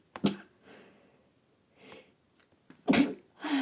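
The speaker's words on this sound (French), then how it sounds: "je vais t'éternuer" A single sharp sneeze from a French-speaking person near the start, followed by a few quieter sniffs and breaths, then another burst of noisy exhaling.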